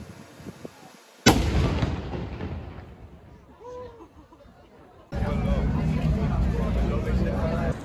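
A sudden loud cannon boom in Zagreb cuts in, then a long rumbling decay fades under distant crowd murmur before steady outdoor noise returns.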